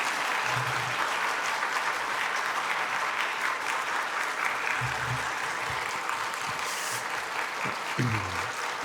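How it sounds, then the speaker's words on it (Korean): A church congregation breaks into sustained applause to welcome a visiting pastor at a revival service, steady clapping filling the hall throughout with a faint voice near the end. "감사의 박수 드리면서 맞이하겠습니다"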